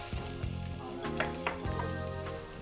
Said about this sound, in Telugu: సో దీంతో పాటు ఇప్పుడు ఉల్లిపాయ ముక్కలు వేసేయండి.